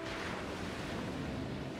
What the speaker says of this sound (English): Watch the waves lap onto shore.